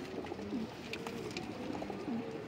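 Pigeons of a Punjabi breed coo softly in a loft, several low repeated coos rising and falling over a steady murmur of background noise, with no one talking.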